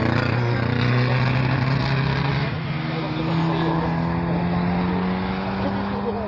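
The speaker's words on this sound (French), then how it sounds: "Donc c'est un moteur." An engine of a restored historic car runs steadily at a hill-climb event, with a droning hum and rising-falling pitch, loud and continuous throughout, a voice speaking over it.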